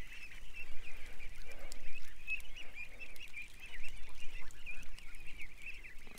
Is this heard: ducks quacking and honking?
yes